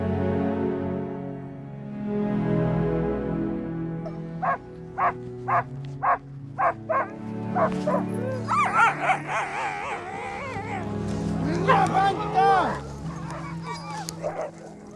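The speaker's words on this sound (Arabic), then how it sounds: "مساحة كبيرة كلها كلاب هاسكي" Husky dogs in Greenland bark in a sharp run of repeated yaps after a low rumbling start, then break into a chorus of howls, whimpers and yips from several dogs nearby, fairly loud.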